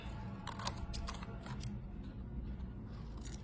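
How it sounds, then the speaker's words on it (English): Scissors snipping through paper for a craft project, a series of soft, quick cuts close by at a low level over quiet room noise, the snips clustered in the first half. "you're gonna cut right up to that corner like so"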